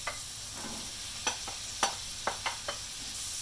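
Onion, carrots and celery sautéing in melted butter make a soft, steady sizzle, broken by several sharp clinks and scrapes of a utensil stirring the pan.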